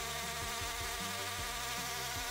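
A Lego turbine generator driven by vacuum airflow spins at high speed, giving a steady, loud whirring buzz with a dense high-pitched hiss and faint pulsing wobble, heard alone and close.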